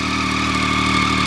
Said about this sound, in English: 3-cylinder whistle that you get from all Triumph triples. It's a lovely sounding engine